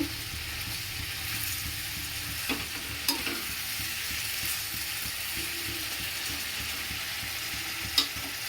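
Ground spices frying in a pan on a gas flame for an egg dish, a steady close sizzle with stirring scrapes and a few sharp clinks of a utensil against the pan.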